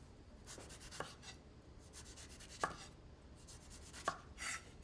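A knife cuts a peeled grapefruit into quarters for juicing, and the blade gives a few soft, scattered chops and scrapes on a board. The sounds are quiet and close, with no voices.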